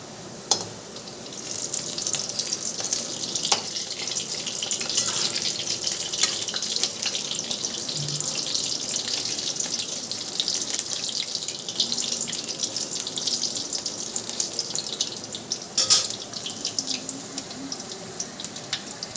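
Bhaji fritters fry in hot oil, giving a steady, close, hissing crackle that holds evenly throughout with occasional brief pops.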